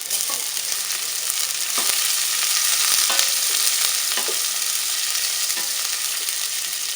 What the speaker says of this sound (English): I'm going to stir fry our spices, our garlic,